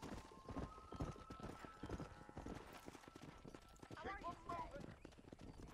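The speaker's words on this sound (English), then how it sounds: "It's so hard to control the horse." In Red Dead Redemption, a horse's hooves clip-clop steadily while herding cattle, irregular and fairly close, with a brief neigh-like call near the end and voices talking over it.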